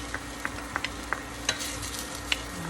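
Garlic sizzles steadily in a pan with white wine, broken by a series of sharp clicks and scrapes as it is swished around, about eight distinct stirring knocks over a constant frying hiss.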